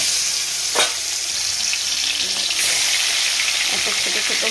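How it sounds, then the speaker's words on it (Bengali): Small fish frying in oil for a spicy fish curry, a loud continuous close sizzle with crackling bursts throughout, no talk over it. "এখানে কটা ভেজে নিয়েছে আর এগুলো ভাজছি"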